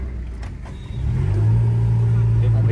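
A car engine labours up a steep ghat road on Thimbam hill. Its drone swells after the first second into a loud, steady, sustained pull, with voices heard near the start.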